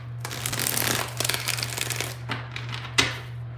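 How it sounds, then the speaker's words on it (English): Tarot cards are shuffled by hand in several quick riffling bursts, close and fairly quiet, with a sharp snap near the end over a low steady hum. "So let's get 4 shuffles here."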